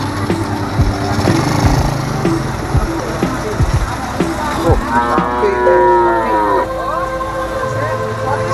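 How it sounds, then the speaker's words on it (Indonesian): A cow moos loudly several times close by in a rural setting where a stuck box truck sits, with a light engine running and people talking in the background. "Sapi."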